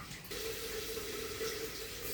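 Water poured steadily from a tap or vessel into a pot of thick curry, a continuous close splashing stream with no talking.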